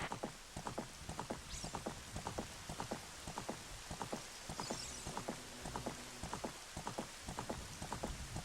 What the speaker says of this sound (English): Oh, it is raining.